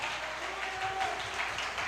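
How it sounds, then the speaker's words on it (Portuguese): Soft, steady applause from a church congregation during a service, a faint, diffuse wash of clapping heard from a distance. "Então dá uma salva de palmas aí para o Senhor Jesus."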